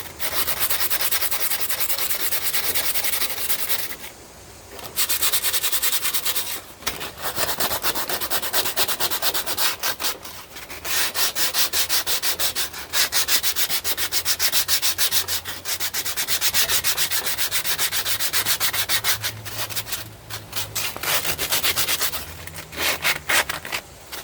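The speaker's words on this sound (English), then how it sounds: "I did say I was going to sandpaper this rust off, so I'm going to go ahead and do that." Sandpaper scrubbing rust off a metal part from an Xbox 360, a loud, steady back-and-forth rasp in long bursts, with a few short pauses between strokes.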